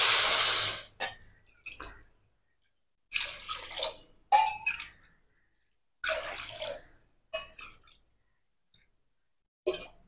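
Water poured from a bowl into a pan to make sugar syrup, several separate splashing pours with short pauses between them, each one close and fairly loud with a few drips at the end.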